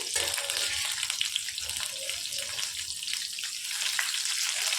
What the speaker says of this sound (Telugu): ఆయిల్ వేడెక్కనిచ్చి ఆయిల్లో ఈ మిర్చిని వేసుకొని వేయించుకోవాలి